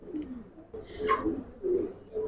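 Giribaz pigeons coo in a loft, a few soft low bird calls rising and falling close by, with a faint higher chirp mixed in and no one speaking.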